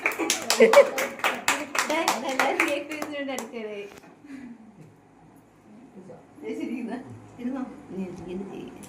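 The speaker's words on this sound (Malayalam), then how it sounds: "അവസാനം കൈയടിക്കുന്നവർക്ക് കേക്ക് പീസ് കൂടുതലുണ്ട്." At a birthday party, a group claps hands in quick steady rhythm for about three seconds alongside voices, then the clapping stops and scattered talk continues.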